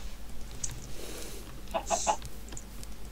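Chickens cluck in the video game Minecraft: a few short, close clucks in a quick little series over a steady low background hum.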